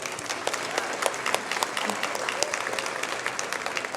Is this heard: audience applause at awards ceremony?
yes